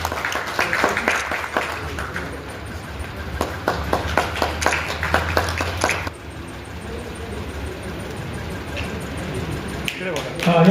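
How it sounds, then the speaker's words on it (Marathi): An audience at a teachers' award and poetry book launch claps to welcome a guest, a steady run of sharp claps under amplified talk, easing off midway as the announcer continues. "सर्वांनी टाळ्या वाजवा."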